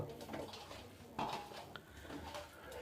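Cauliflower florets mixed with masala by hand in a bowl for crunchy gobi pakoda make soft, irregular rustles and light clinks of the bowl, quiet and close, with no talking.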